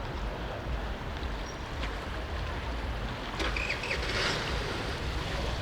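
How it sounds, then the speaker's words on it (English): A river flowing through the town of Travnik in Bosnia and Herzegovina, a steady broadband rush of moving water with some wind buffeting the microphone, continuous and fairly close, with no one speaking. "River flows through."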